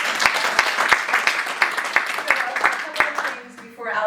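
Audience applause for an improv group at a live show, with distinct loud claps ringing out over a steady patter of clapping that thins and fades toward the end, some voices entering as it dies down.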